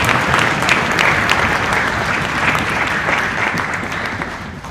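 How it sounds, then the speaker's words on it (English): Loud, sustained audience applause at a summer school band concert, a thick wash of clapping from a full room that continues evenly for several seconds before easing off slightly. "So please give them a round of applause as well."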